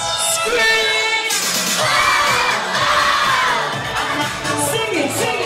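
A crowd of children scream and cheer together, loud and sustained for several seconds, with shouts rising and falling before the noise tapers off.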